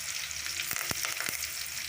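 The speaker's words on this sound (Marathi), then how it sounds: "आता तेल गरम झालं की आपल्याला त्याच्यामध्ये पहिली लसूण टाकायचे।" Garlic and curry leaves hit hot oil in a pan, a brief, soft sizzle broken by a few sharp crackling pops.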